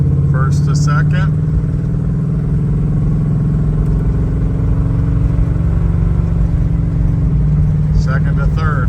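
A 1980 Chevrolet K5 Blazer truck, slightly hail-dented, drones from inside the cab as it shifts from first to second gear, the engine note holding then dropping. Someone speaks briefly at the start and end.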